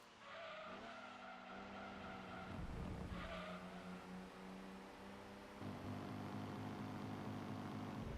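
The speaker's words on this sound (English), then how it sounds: "we're hitting off the rev limiter again" Gran Turismo 2 front-wheel-drive race car engine bouncing off the rev limiter, a loud sustained buzzing drone with stuttering pitch cuts and gear changes, plus brief tire squeal.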